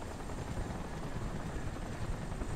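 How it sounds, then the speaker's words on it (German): A helicopter in the video game Crysis churns with a steady, loud, broadband rotor drone that stays constant throughout, with no voices over it. "Ich mag den Hubschrauber da nicht."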